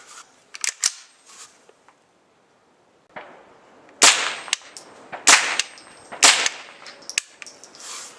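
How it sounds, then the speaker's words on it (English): .22 LR rounds fired from an AR-15 rifle outdoors, several sharp cracks with short gaps among some clicks and handling noise, close and loud, with three of the shots spaced about a second apart near the end. "Alright, so we got 3 rounds there."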